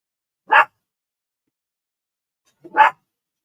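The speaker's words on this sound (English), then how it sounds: "You hear George barking." Two single sharp dog barks, nearby and loud, separated by about two seconds of silence.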